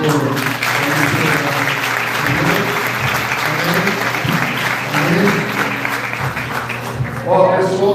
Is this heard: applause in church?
yes